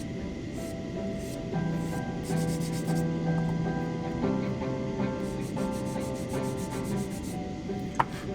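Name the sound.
sanding plastic model part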